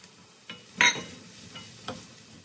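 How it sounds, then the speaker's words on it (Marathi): Chopped snake gourd tipped into frying masala and stirred, giving a sudden close burst of sizzle and clatter, then a few quieter scraping strokes over a faint background hiss, with no voices. "आता त्याच्यामध्ये हा चिरलेला पडवळ घालते"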